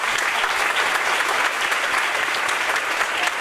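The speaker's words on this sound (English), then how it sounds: "Would you give them one more round of applause?" Symposium audience gives the honorees another round of applause, a loud, full and even roar of clapping that continues steadily throughout.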